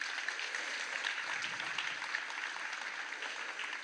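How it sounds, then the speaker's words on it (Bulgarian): Sustained audience applause for honorees at the People of the Future awards, a dense wash of many hands clapping steadily throughout, moderately loud and even with no voices on top. "Моля вашите силни аплодисменти за хората на бъдещето"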